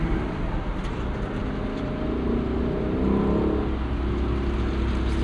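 A 2025 Lexus LC 500 Convertible's V8 in sport mode accelerates through rush-hour traffic, a steady close-up engine drone that climbs and swells in pitch partway through, with no talking.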